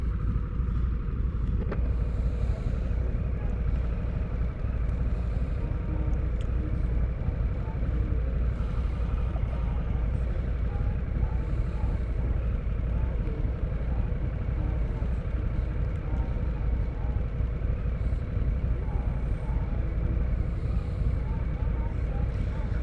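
A 2022 Harley Davidson Nightster motorcycle rides at low speed, with a steady, continuous engine rumble and road and wind noise throughout and no distinct revving.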